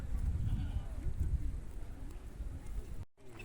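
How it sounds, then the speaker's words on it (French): Ouessant sheep bleat in a roomy farm-park enclosure, a few soft, wavering calls rising over steady outdoor noise and rustling, with a brief dropout near the end. "Et ici vous avez les moutons de l'Ouessant."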